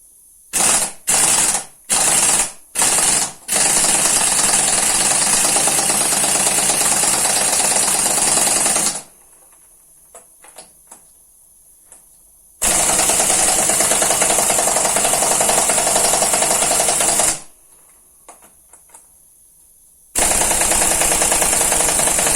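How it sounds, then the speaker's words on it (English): A 3/8 or 1/2 inch drive air impact gun hammering at very tight bolts on a Peugeot Speedfight 100 scooter engine: several short rattling bursts, then long loud sustained runs with quiet gaps between them, close by. "a 3/8 or 1/2 inch drive air impact gun"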